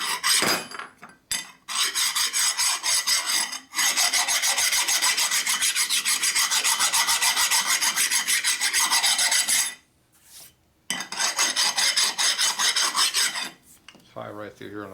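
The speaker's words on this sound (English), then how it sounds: "We should put a file on the flywheel face here." A metal file rasps across the flywheel face of a 1961 Harley-Davidson Sportster XLCH engine during a rebuild, close and loud, in long steady back-and-forth strokes with a few short pauses and no talking.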